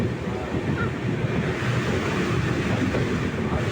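Water rushing hard through partly opened barrage gates on the Ganges, a dense, steady roar that fills the whole clip with no pauses.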